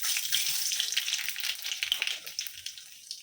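Nigella seeds frying in hot oil give a bright, crackling sizzle, dense and steady with tiny pops scattered throughout, close and moderately loud, with no voices.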